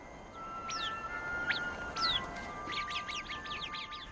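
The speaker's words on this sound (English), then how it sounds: "This little creature, known as the Arabian bird, manages to survive in this difficult environment." An Arabian bird gives a series of high, thin chirping calls, a few spaced notes and then a quicker run of chirps, moderately near over a soft steady background hiss.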